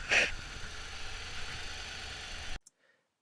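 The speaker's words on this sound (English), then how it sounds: "Start the engine up and listen." A car engine idles after a cold start, a steady mid-pitched hum with a brief louder burst at the start, then abruptly cuts to near silence.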